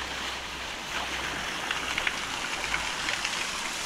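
Outdoor shower water splashes steadily at a Sri Lankan tea plantation, a continuous hissing spray with a few brighter droplet spatters, fairly close and with no voices.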